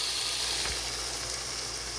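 Chicken pieces hit lightly browned onions frying in a pan for chicken masala, a loud, steady sizzle with a constant bright hiss, close up and alone with no voices.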